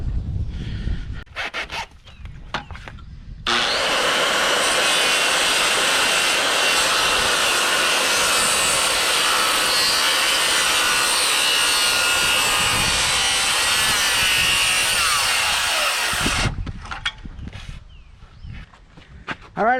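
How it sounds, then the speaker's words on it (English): A sawmill cuts through a 2-inch oak board in one long, loud, steady roaring pass lasting about thirteen seconds, framed by quieter clatter and handling noise before and after. "I'm going to take a 2-inch board, cut this off on the sawmill"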